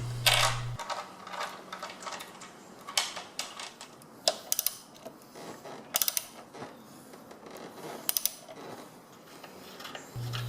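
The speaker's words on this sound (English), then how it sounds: "Make sure all four bolts are securely tightened using the 7/16 inch socket" Socket wrench with a 7/16 inch socket tightening bolts while installing a SuperBrace on a Honda Goldwing 1500, giving faint, close, intermittent ratcheting clicks and metallic ticks in a quiet room.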